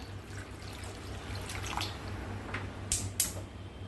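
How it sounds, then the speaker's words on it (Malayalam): Water poured into a pot of raw mango pieces for rasam, giving a faint, continuous pour with a few sharper drips and splashes near the end over a low background hum, no talking. "ഇതിലേക്ക് നല്ലോണം മുങ്ങിക്കിടക്കുന്ന പാകത്തിന് വെള്ളം ഒഴിച്ച് തീ കത്തിക്കാം"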